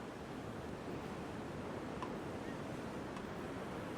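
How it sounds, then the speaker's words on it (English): Pacific Ocean waves at Oceanside Pier, California: a steady broadband wash of surf with wind noise, continuous and fairly loud, with no distinct breaks and no talk. "Pacific Ocean."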